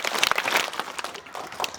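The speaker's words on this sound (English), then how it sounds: "I want to give these guys all 2 claps" A group of students at a school claps together, producing a burst of scattered, overlapping hand claps that is moderately loud and close, with no voices standing out.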